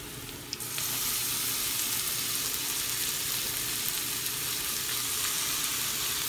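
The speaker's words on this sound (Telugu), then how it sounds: "పాలకూర వేసుకుందాం." Spinach goes into a pan of fried onions for spinach dal, setting off a sudden loud, steady sizzle that holds without a break, with no talking.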